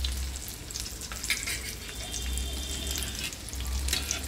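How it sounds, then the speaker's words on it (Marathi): Pieces of surmai fish coated in rava sizzle steadily in hot oil, a close, continuous crackling fry with brief spattering pops and no talk. "आपण ही सुरमई फ्राय बनवत आहोत."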